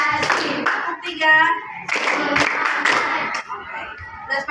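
A group claps hands together in counted bursts, the number of claps changing with each round, in a lively classroom session; voices call out between the rounds of clapping and talk over them.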